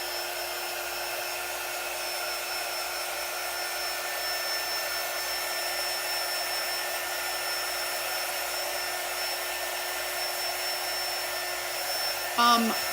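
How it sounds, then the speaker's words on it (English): A quick dry tool blows air steadily over a letter board, a continuous whooshing hum lasting throughout at close range, with a brief louder bump near the end. "Let's get that quick dry tool out."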